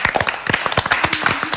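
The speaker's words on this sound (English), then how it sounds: "We just clapped." A studio audience claps together at a talk-show debate, a brief burst of quick, close, uneven hand claps with no talking over it.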